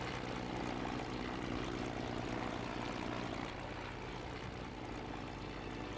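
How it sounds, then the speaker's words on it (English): In the IL-2 Sturmovik 1946 flight game, an early 1909 monoplane's propeller engine runs at a steady, droning idle throughout, continuous and fairly even with no speech. "By 6:30, Latham started his engine."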